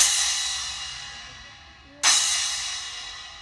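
A cymbal left to ring, its bright wash slowly decaying, then struck again and allowed to sustain and fade.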